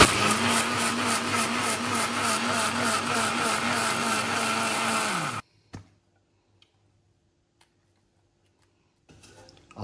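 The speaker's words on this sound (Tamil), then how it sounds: "இப்போ துவரம் பருப்பு குறுன குறுனையாக அரைச்சிக்கலாங்க" A kitchen mixer grinder coarsely grinds toor dal in pulses: a loud whirring motor with rattling grains runs steadily for about five seconds, then cuts off abruptly into near silence with a few small clicks.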